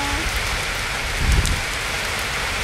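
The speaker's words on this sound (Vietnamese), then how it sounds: "Trời thì đã mưa luôn rồi. Mưa lớn lên đi" Heavy rain pours down steadily near a barge moored on the water, a loud, dense hiss of drops with a brief low rumble partway through and no voices.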